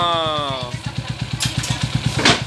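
Motorcycle engine fitted with a 175cc conversion, CG175 cylinder block and Skygo 150 cylinder head, idling with a steady, even rapid thump close by. A falling whine fades out at the start and a brief rev swells near the end.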